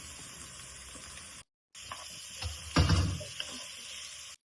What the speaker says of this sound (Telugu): కార్న్, క్యారెట్, బ్రోకలీ అన్ని వేసుకొని బాగా ఫ్రై చేసుకోవాలి.